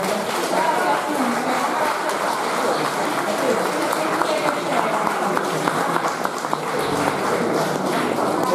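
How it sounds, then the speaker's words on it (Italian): An audience at a singing contest in Orune applauds a prize winner, producing steady, dense clapping and crowd noise with voices speaking over it throughout. "un applauso"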